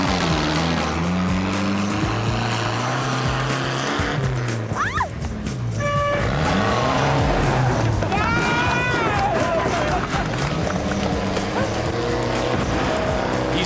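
A tractor races down the straight of a course built for a vehicle challenge, its engine roaring and surging loudly close by while a voice talks over it and whistling tones sweep past.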